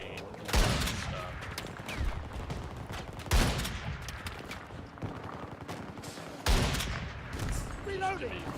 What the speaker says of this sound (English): This dude's shooting an LMG at me and hitting me non-stop.